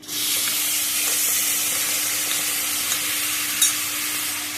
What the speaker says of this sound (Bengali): কালো জিরে ফোড়ন ওই তেলে দিয়ে দিচ্ছি